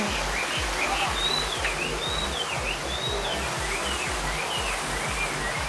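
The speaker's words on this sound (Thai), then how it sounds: "มีน้ำน้ำตกก็มี" A decorative waterfall at a shop in China pours as a steady broadband rush, with faint high chirps and soft rhythmic low thumps beneath.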